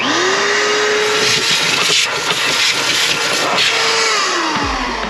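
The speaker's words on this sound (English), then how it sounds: "We're gonna vacuum out the floor of the car." A vacuum cleaner runs loudly while cleaning the floor of a Nissan 350Z, a steady whining drone with pitch shifts as the nozzle moves, then winds down at the end.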